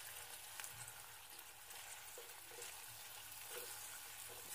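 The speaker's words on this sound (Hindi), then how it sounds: "अब इसमें डालेंगे मटर। और इसको अच्छे से चला देंगे।" Peas stirred into a beetroot and carrot dish cooking in a pan, a faint steady sizzle with light scraping of the spoon, quiet and distant throughout.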